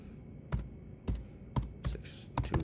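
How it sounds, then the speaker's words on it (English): Five distinct keystrokes tapped at an uneven pace on a computer keyboard while a phone number is entered, close and fairly quiet, with no talking over them. "you're going to type your number in here"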